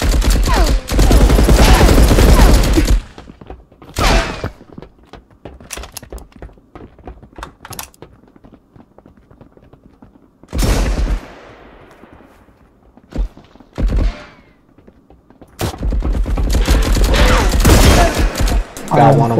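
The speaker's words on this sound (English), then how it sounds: "It's a machine gun." Loud bursts of automatic machine gun fire in the Marauders video game, several heavy volleys separated by quieter stretches of scattered shots and thuds.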